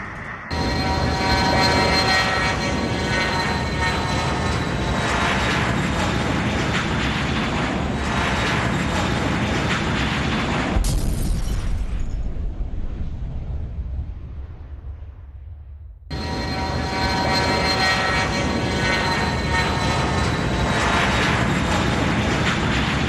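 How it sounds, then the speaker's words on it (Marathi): Loud, continuous aircraft engine roar from the Air India plane crash after takeoff in Ahmedabad dominates, cutting out abruptly partway through before the same heavy roar returns. "विमान कोसळतानाची ही दृश्य आपण या ठिकाणी पाहतो"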